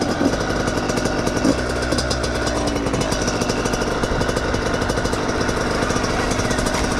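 A Yamaha YZ85 dirt bike engine revs hard with a rapid buzzing two-stroke crackle, loud and close, holding a steady high-revving drone with pulsing beats across the whole stretch.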